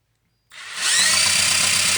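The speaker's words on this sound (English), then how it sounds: "Got the old drill." A power drill whirs up suddenly and spins at a steady high pitch, loud and close, with a faint rhythmic chatter underneath, spinning a Honda XR70R engine to check for spark.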